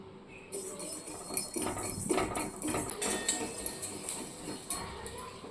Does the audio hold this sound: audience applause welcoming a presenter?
no